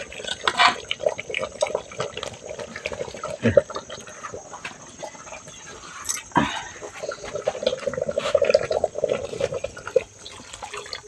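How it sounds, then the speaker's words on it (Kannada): Water pours into a cooking pot for pork and mutton sambar over a wood-fired stove, a fluctuating splashing stream with a few sharp knocks, while people talk in the background. "ನೀರು ಹಾಕೋಣ ನೀರು ಹಾಕ್ಬಿಡು ಇವಾಗಲೇ"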